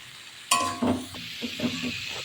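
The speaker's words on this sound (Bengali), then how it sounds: "এটাকে পুরো লাল করে ভেজে নেবো আমি, পুরো একদম লাল হবে।" Vegetables fry in a hot pan as they brown for a poppy-seed chorchori with flat beans, onion greens and peas. A sudden sizzling hiss is followed by stirring scrapes and bubbling, close and moderately quiet.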